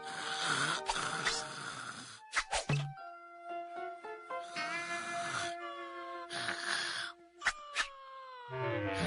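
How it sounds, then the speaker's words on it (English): Cartoon snoring from a sleeping mother character in a Johnny Bravo Christmas special: drawn-out, wavering nasal snores and whistling exhales repeating in slow cycles, mixed with music and sound effects. "Mama was sleeping, you can tell by the snoring."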